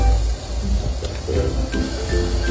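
Steady steam hiss from a pan of chicken chops being cooked without oil or water, a continuous broadband rush that stays fairly loud throughout with small clatters on top.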